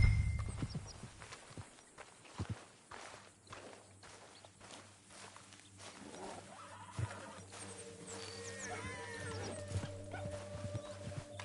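A horse in the Red Dead Redemption 2 video game clip-clops along at a walk, its hoofbeats fairly quiet and steady against a soft outdoor ambience.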